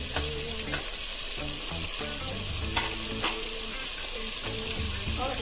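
Ground spices including turmeric, chili powder and dried fenugreek leaves fry in a pan with a constant, dense sizzle and frequent scraping stirs near the microphone, with no one speaking.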